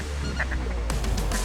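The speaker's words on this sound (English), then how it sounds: "Kill them ducks." Ducks and geese honk and quack during a Canadian waterfowl hunt, with a few calls in the first half followed by a denser burst of honking, all fairly close.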